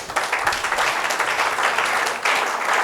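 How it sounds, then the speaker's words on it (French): A church congregation breaks into sustained, dense applause during a service, a loud, steady wash of many hands clapping together without pause. "Acclamons pour la gloire de notre Dieu."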